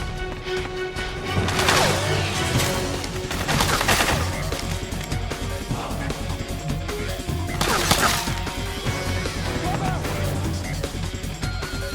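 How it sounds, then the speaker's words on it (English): Sustained gunfire in a Metal Gear Solid 4 firefight, with repeated sharp bursts layered over a dense, continuous battle din and a voice talking underneath. "We've got company! Suppressing fire!"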